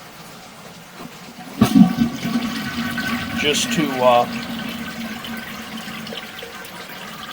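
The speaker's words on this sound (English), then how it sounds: "we flush the toilet now and that flushes more debris down" A toilet flush pushes debris down a sewer pipe, a sudden loud rush of water followed by gurgling and swirling draining, with someone talking briefly over it.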